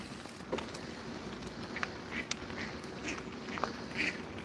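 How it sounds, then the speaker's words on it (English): Ducks on the Rochdale Canal quack in scattered short calls at a moderate distance, over steady outdoor background noise. "This is all the ducks. They're all argy-bargy going on today."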